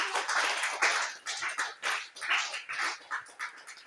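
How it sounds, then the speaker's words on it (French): A church congregation claps in rhythmic, uneven bursts, the sharp hand-claps rising and falling in waves fairly close by, with no clear talking over them. "Si tu étais là, applaudis pour le Seigneur."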